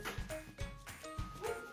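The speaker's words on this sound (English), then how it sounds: "I'm sorry guys, but you're going to have to excuse the dogs" Dogs bark and yip in short bursts, several sharp barks spaced through the moment, fairly near and moderately loud in a home setting.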